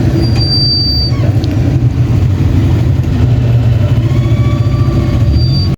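A motorized tricycle engine runs steadily and loudly throughout, a dense low rumble with road and traffic noise on a Philippine street.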